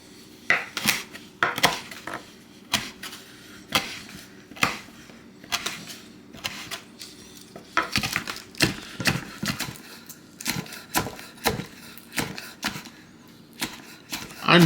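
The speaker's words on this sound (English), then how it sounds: "I'm going to start by cutting up all of my ingredients" A kitchen knife chops fresh thyme and herbs on a cutting board for a jerk chicken marinade, crisp close knocks coming in quick irregular runs and short pauses.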